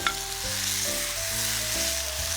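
Sauce hits a sizzling stir-fry of shrimp and squid in a hot pan, making a loud, steady, close hiss that runs unbroken under faint background music.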